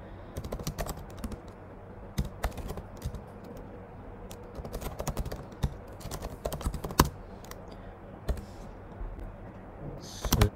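Someone types a command on a computer keyboard, with irregular bursts of crisp, close key clicks and occasional louder presses against a quiet background, with no talking.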